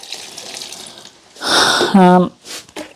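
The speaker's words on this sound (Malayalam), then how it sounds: "ഇത്രയും വെള്ളം സാധാരണ നമ്മൾ ഒഴിക്കാറില്ല കേട്ടോ" Water is poured from a vessel onto a dried-out potted tulsi (holy basil) plant, a short splashing gush that swells and then trickles off within a few seconds.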